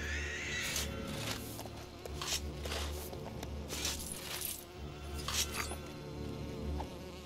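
Buzzing bees swarm from a bees nest in the LEGO Lord of the Rings video game, a continuous insect drone with rising and falling bursts alongside game sound effects.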